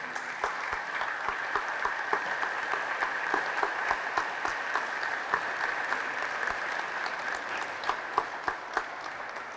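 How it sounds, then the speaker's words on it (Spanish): Loud applause from a church congregation during a Spanish-language Catholic Mass, steady dense clapping that holds for several seconds with no voices over it. "Fuertes aplausos"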